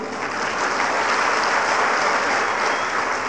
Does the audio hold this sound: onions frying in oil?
no